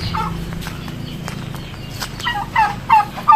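Turkeys gobble in short, rapid bursts against a busy farmyard background, with the loudest calls coming near the end.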